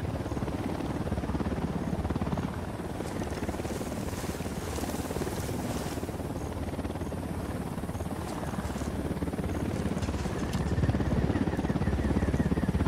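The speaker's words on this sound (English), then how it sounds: "We got a chopper coming in." A helicopter drawing near in Ghost Recon Wildlands, its rotor thrum a dense, steady chop that fills the scene and holds loud and close throughout.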